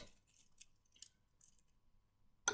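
Scissors snip the end off a filled piping bag of lemon curd for lemon meringue tartlets: a few faint, quick clicks and cuts in near silence, then a louder rustle at the close.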